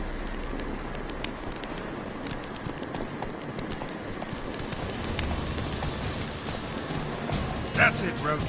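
Roach, the horse in The Witcher 3, gallops with a continuous rapid clip-clop of hooves over ambient outdoor noise, with faint bird calls and a short burst near the end.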